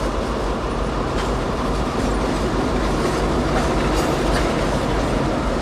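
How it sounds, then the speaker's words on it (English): A Norfolk Southern switcher moves through a rail yard, with loud, continuous rumbling and clattering wheels on track and scattered metallic squeaks, close by and without voices. "One switcher in the yard and another making a transfer delivery to CSX."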